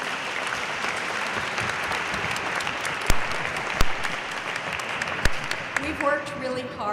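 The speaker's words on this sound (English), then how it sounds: "let's give our panelists one more round of applause" Audience at a drug policy panel gives the panelists a sustained round of applause, a dense even wash of clapping with a few sharper louder claps near the end and faint speech at the close.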